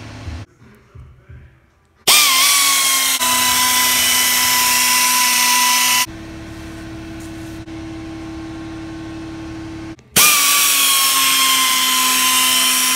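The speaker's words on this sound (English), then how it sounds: "I'm gonna be using a 3-inch mini air polisher and some buffing compound and pads to polish" A 3-inch mini air polisher with buffing compound and pads polishes car taillights, whining steadily at a high pitch, running in long sustained bursts with brief pauses between them.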